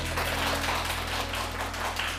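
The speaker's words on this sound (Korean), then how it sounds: "큰 박수로 맞이해주세요" An audience claps to welcome a speaker onto a lecture stage, a dense, even wash of many hands clapping at once, sustained without pause.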